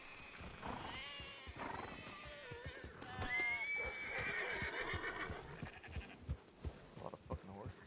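Horses in a video game whinny and neigh several times, with hoof clip-clops underneath and someone talking over part of it.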